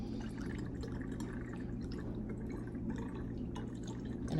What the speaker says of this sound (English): We're going to pour it back through a strainer so that it catches any little things in the bottom